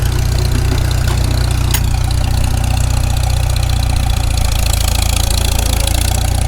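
Farmall Super M tractor engine pulling steadily in fourth gear, a loud, close low-pitched chugging drone with a constant rhythmic throb and a faint clank near the middle, no voices.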